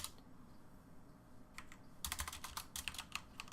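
Terminal command typed on a computer keyboard during a Linux server setup: a quiet pause, then a fast burst of close, crisp key clicks in an uneven rhythm through the second half, with no talking.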